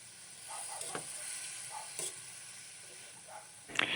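Baguio pechay stir-fried with salt hisses steadily in a hot pan, with repeated scraping stirs and soft clanks of the utensil, a sharper clatter near the end.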